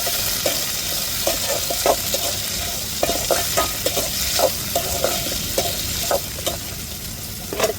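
Tomatoes and chili sautéing in a hot pan, a steady sizzle with repeated scraping stirs of a spatula, moderately loud and close, with no talking.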